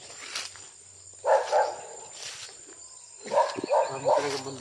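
Several dogs barking outdoors in two separate bursts of quick repeated barks, fairly distant, against a constant drone of insects and a faint background voice.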